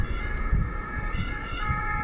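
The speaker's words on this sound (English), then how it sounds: "An ambulance." An ambulance siren drones steadily throughout, passing nearby with a sustained wailing tone over low traffic rumble, loud and continuous.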